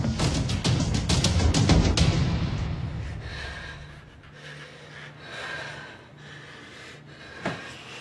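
A person breathes heavily in panic, with rapid loud snorting gasps at first that slow into deeper, quieter breaths, with no talking.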